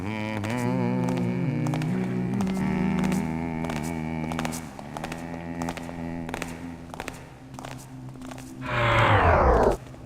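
A mechanical hum with steady clicking ticks runs along, then ends in a loud descending whoosh as something powers down.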